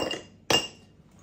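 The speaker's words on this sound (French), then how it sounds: "On met les glaçons." Ice cubes drop into a glass with one sharp, bright clink at close range, ringing briefly before fading, after a quieter rustle.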